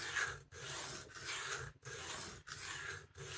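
A restored blade is drawn across a 400 grit sharpening stone in steady rasping strokes, about five long rubs separated by short pauses, close and fairly quiet.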